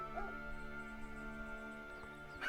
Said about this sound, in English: these dogs are so noisy